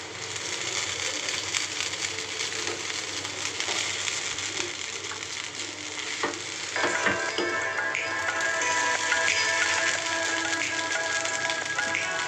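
Egg hakka noodles being stirred and fried in a pan, a continuous hiss of sizzling oil with scraping and tossing noises that grow a little denser toward the end, no speech.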